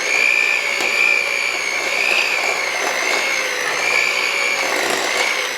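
An electric hand mixer runs at slow speed in a bowl of buffalo chicken grilled cheese filling, a steady continuous whir with slight wavering pitch, close and loud throughout with no talking.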